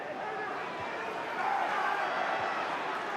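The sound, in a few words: football match stadium crowd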